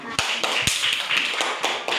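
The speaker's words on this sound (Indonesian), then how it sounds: "Oke, terima kasih untuk kelompok 3. Kita berikan tepuk tangan." A class gives applause for group 3, a short burst of several hands clapping nearby with a few sharp distinct claps standing out over the patter.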